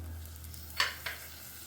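Vegetables such as peas, beans, chickpeas, carrots and peanuts go into a spice paste already sizzling in oil, with a steady low sizzle and two quick bursts as they drop in and are stirred.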